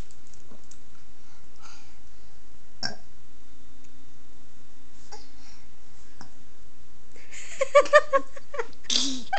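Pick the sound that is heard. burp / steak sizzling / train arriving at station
burp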